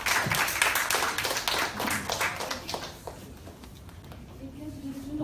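A crowd claps for a few seconds, the applause loud at first then fading out, followed by quieter room sound and a faint voice.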